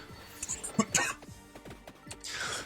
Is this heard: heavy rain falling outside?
no